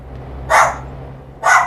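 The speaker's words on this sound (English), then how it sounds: "Not the dog barking." A dog in Euro Truck Simulator 2 gives two short, sharp barks about a second apart, moderately near, over a low steady hum.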